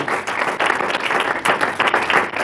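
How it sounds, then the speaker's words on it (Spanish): A church congregation gives dense, continuous applause for Jesus during a Spanish-language sermon, steady and close throughout with no talking. "Dele más fuerte el aplauso a Jesús"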